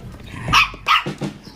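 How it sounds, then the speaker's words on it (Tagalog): A dog barks a few short, close barks in quick succession, with a slight growly edge between them. "Ang cute naman ng aso nyo."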